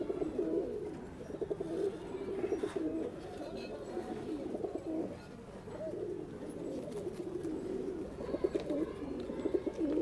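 Pigeons coo steadily and in overlapping rounds at a loft belonging to a pigeon fancier, low throaty calls rising and falling throughout, fairly close with faint background murmur.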